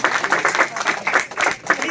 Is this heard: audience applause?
yes